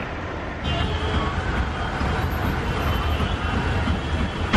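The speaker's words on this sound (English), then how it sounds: "And hello traffic." Road traffic on the drive from Jammu toward Kashmir in India, a continuous low rumble of engines and tyres with constant background noise, heard from inside a vehicle.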